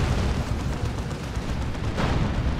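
Rocket run strike in Warhammer 40,000: Dawn of War 2 multiplayer, a dense roar of overlapping explosions and booms filling the whole clip, loud and continuous with no voice over it.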